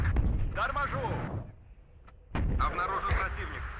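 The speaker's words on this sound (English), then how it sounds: "Really fun watching those Vasiloks fire, actually." Vasilek mortars in the war game WARNO fire heavy booming rounds that land with deep, rumbling thuds, loud and close, while someone talks over much of the action.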